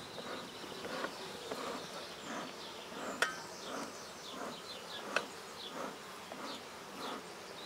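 Honeybees buzz around hives during a honey harvest, a dense near drone with pulsing passes of individual bees and a couple of sharp clicks.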